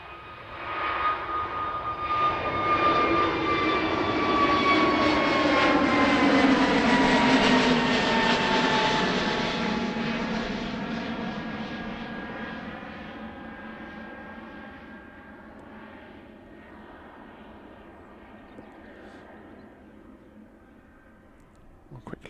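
An easyJet airliner coming in to land on runway 09 at Bristol Airport swells into a loud jet roar, passes with a falling whine, then fades slowly into the distance.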